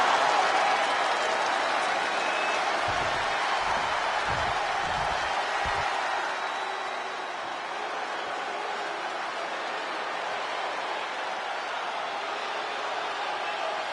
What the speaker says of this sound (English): the Chase U cheering section is out in full force